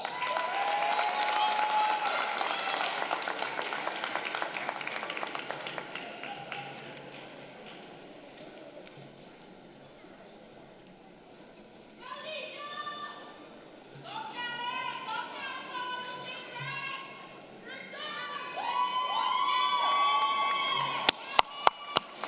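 A law school graduation crowd at Barry University gives loud, sustained applause and cheering that gradually fades, then voices talk and call out, with a second swell of clapping rising near the end.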